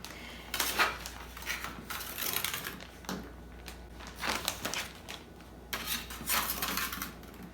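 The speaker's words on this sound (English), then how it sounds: "Just going to transfer the grapes into the freezer bag." Frozen grapes being tipped off trays into a freezer bag, a run of irregular clattering and rattling bursts with short pauses between, close and moderately loud.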